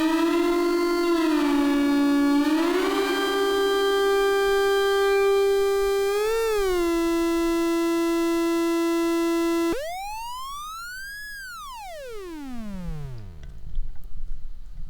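Breadboarded 40106 IC drone synth with reverb: a loud, steady buzzy tone with bright harmonics that wobbles and bends in pitch, then jumps high and sweeps steeply downward before trailing off into faint noise.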